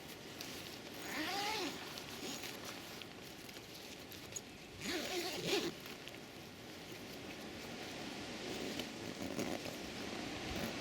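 The zipper on a tent's bug net is pulled across in two distinct zips, close and scratchy, with faint rustling of fabric between them outdoors at a wild camp.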